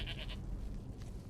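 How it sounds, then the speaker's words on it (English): A goat bleats in Skyrim, the video game, three quick nasal bleats in a row at the start, fairly faint over a low steady background. "Don't make goat noises at me."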